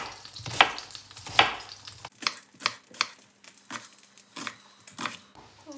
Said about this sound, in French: je coupe mes oignons en fines lamelles